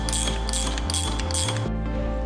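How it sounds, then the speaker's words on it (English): Ratchet wrench tightening the bolt and nut on a Toyota Tacoma rear shock absorber during a suspension lift install, a quick run of sharp mechanical clicks close up, with no talking. "install the bolt, tighten that down, and tighten down the nut at the top as well"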